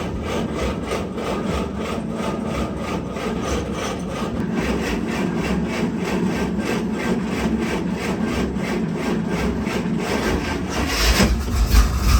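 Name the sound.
old Dodge Power Wagon engine cranking and starting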